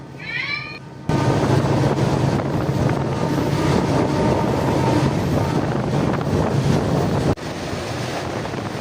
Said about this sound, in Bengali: আমাদের ট্রেন সর্বপ্রথম পৌঁছে গেল খড়গপুর স্টেশনে